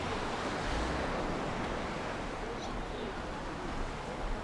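Sea waves wash over a pebble beach in Sochi, a loud, continuous broadband roar of surf mixed with wind rumbling on the microphone, with no clear voices.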